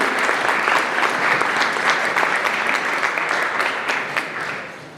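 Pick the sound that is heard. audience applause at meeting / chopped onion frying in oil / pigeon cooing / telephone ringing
audience applause at meeting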